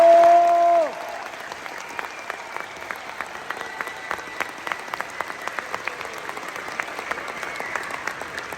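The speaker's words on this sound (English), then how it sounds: "we applaud each of you" Large audience applause at a Metro State University graduation ceremony, sustained crisp clapping from many hands filling the hall after a brief spoken line ends.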